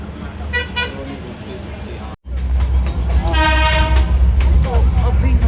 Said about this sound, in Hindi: तो ये है हमारी टॉय ट्रेन।